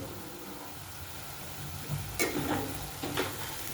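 A paste of garlic, dry coconut, ginger and coriander sautés in a pan, giving a soft steady sizzle with a few stirring scrapes toward the end, fairly quiet and with no voices.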